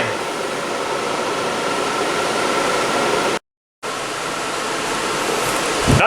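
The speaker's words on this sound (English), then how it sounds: "fan blowing in head makes head dry" Steady broadband whoosh of an electric fan blowing air into a fursuit head to dry it, continuous and loud with one brief cut to silence midway.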